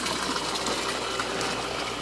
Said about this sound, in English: The water gravity feeds out of the swirl separator, where it then falls through these net filters to remove some of the finer solids.